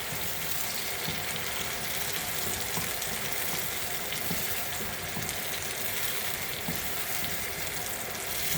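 Tomato cooks in a pan for borscht, giving a steady, dense hiss of frying that holds evenly throughout at moderate volume, with no speech.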